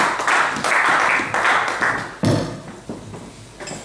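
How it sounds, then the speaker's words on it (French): A church congregation applauds loudly in dense, sustained clapping that swells and holds, then thins out toward the end with scattered claps. "Acclamons très fort pour la gloire de Dieu et prenons place."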